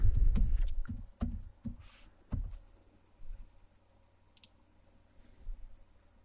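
A password is tapped out on a computer keyboard, several close, sharp keystrokes in a quick burst early on, then a couple of softer isolated clicks in a quiet room.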